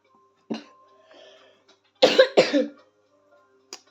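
A few sharp coughs from a man with a cold, close to the mic: one brief cough, then a pair of louder, harsher coughs in quick succession, with a faint click at the end.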